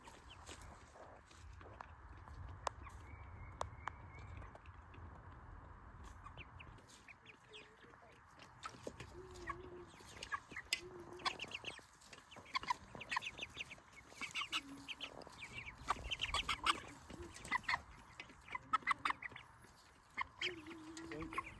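Six-to-seven-week-old meat chickens in a backyard pen cluck and murmur continuously, with frequent short calls rising over a steady low flock chatter throughout.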